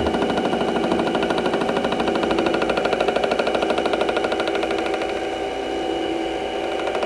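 A mini lathe making a single cut on a change gear, with a loud, steady machine drone and a fast rattling chatter running continuously throughout, close up and with no talk.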